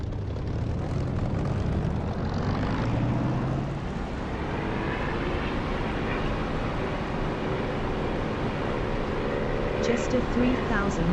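An aircraft engine roars steadily and loudly through a takeoff run in the DCS flight simulator game, a dense continuous drone that holds nearly constant throughout.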